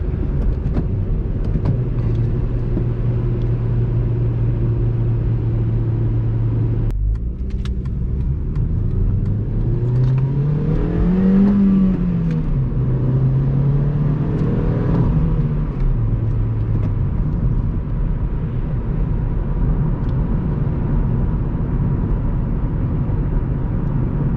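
A 2010 Honda Civic LX-S with a manual gearbox and R18 engine drives along as steady road and engine hum fills the cabin, with the engine note dropping at a gear change and then climbing and falling gently.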